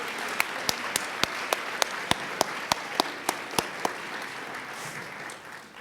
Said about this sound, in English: Can we please give them another round of applause for their amazing performance?